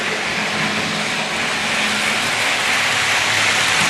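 A Hornby electric model high-speed train rumbles steadily along its track, a continuous hissing, whirring drone at fairly close range, with no voices.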